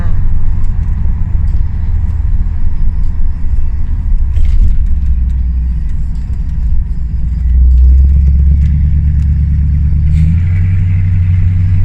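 A 1979 Chrysler Cordoba 300 with a 5.9-litre, 200-horsepower V8 cruises gently without high revs, its deep exhaust rumble steady and loud from inside the car, swelling slightly near the end.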